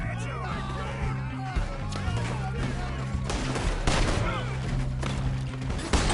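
A Red Dead Redemption 2 shootout: rapid overlapping gunshots crack in loud bursts, some close and some farther off, layered over tense music and shouting voices.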